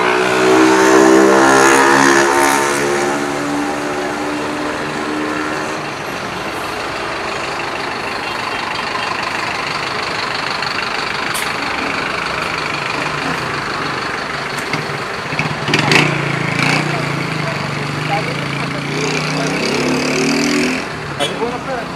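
Heavy road traffic on a rainy access road in Jandira, São Paulo, with trucks and cars rumbling and revving close by, engines droning steadily, a louder pass near the middle and someone talking over it.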